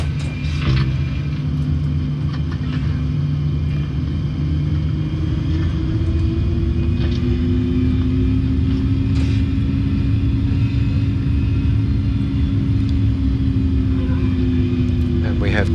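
A Boeing 737 taxiing toward runway 03, a steady low engine rumble and drone holding evenly throughout with a faint tonal whine above it, no speech.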